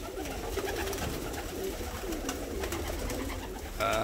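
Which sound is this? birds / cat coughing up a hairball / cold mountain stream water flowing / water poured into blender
birds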